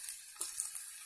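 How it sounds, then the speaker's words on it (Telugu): Ginger and garlic sizzling as they fry in a pan for a capsicum masala kurma, a steady soft hiss with a few small pops, faint and continuous. "అల్లం వెల్లుల్లి వేగింది కదా"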